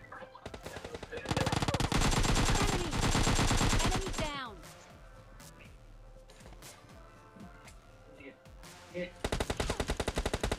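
Uzi submachine gun fire in the mobile shooter PUBG Mobile Lite: loud, rapid automatic bursts at the start and again at the end, with a quieter stretch of game sounds between.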